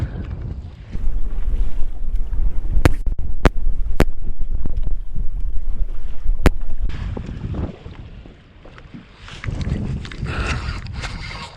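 Strong wind roars across the microphone beside a choppy lake while waves slosh and lap nearby, a loud, continuous buffeting that eases briefly near the end before gusting up again.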